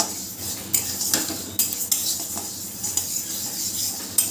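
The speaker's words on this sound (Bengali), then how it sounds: "এবার মুগের ডালটা একটু ভেজে নিতে হবে" Moong dal dry-roasting in a wok, with a steady dry rustle and repeated scraping clinks of a spatula against the metal, loud and close, with no one talking.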